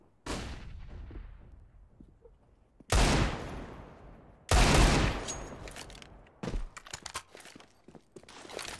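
Counter-Strike gunfire, with several loud bursts of shots separated by quieter gaps, plus footsteps and scattered impacts in between.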